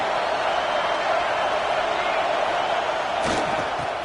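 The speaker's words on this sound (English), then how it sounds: "the crowd coming to life here, trying to help this defense down in the red zone" Crowd noise swelling in a college football video game as the defense holds in the red zone, a loud continuous roar filling the stadium with a brief sharper burst near the end.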